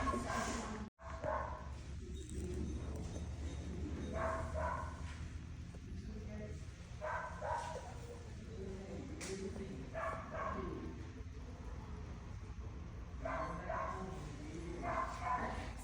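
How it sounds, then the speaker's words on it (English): A big dog barks at a veterinary clinic, intermittent woofs and yips at moderate distance in a quiet indoor room, with faint background activity between the barks. "And there's a big dog"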